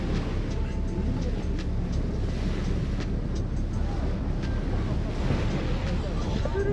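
Wind buffets the microphone on a ferry ride in Australia, with a constant rushing roar of air and water washing beneath it, steady and fairly loud throughout.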